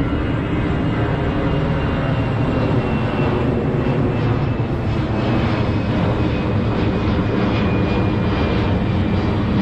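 An airplane passes low over reclaimed land near Manila Bay, a loud continuous engine roar that fills the whole stretch with a steady rumbling drone, with no voices.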